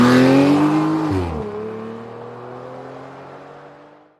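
Engine-like whine from a moon rover car driving fast, a loud, close motor tone that drops in pitch partway through and then fades steadily away, with no voices.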